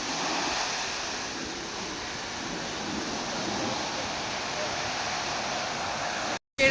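Sea surf at a beach in Mangaluru washes in as a soft, steady roar heard from some distance, mixed with light wind noise, cutting out briefly at the very end.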